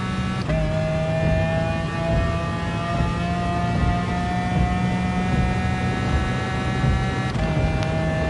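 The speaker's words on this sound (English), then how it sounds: "Love the sound of this engine." A GR3 race car engine in the video game Gran Turismo Sport, a sustained high-pitched whine holding steady near top speed down a straight, with sharp gear shifts near the start and end, loud and with no talking.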